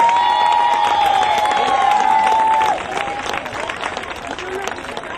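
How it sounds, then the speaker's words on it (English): Audience applauding students at an elementary school gathering, a steady crowd of clapping that drops off after about three seconds to a quieter patter, with a sustained tone and some voices present. "let's give them a big round of applause, please."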